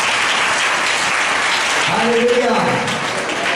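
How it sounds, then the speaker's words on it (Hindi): A church congregation claps loudly for Jesus Christ, a dense continuous wash of applause from many hands, with a voice calling out over it partway through. "यीशु मसीह के लिए ताली बजाओ जोरदार"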